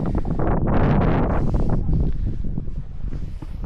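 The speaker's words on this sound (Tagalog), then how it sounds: "Lakas ang hangin" Loud, steady mountain wind in Sagada, Mountain Province, Philippines, buffeting the microphone with rushing gusts, a dense low roar that swells and eases without pause.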